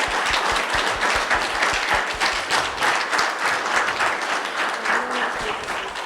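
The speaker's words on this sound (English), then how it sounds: "So let's have another round of applause." Audience applause at a presidential speaker series event, a dense sustained round of clapping from a crowd, close and steady at an even level for its whole length.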